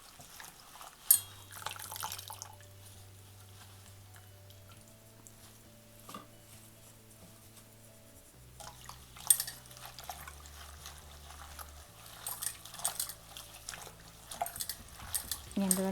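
Water sloshes and splashes as mint leaves are rinsed by hand, irregular and close, with steady background music running underneath.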